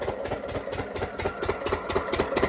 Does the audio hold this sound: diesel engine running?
yes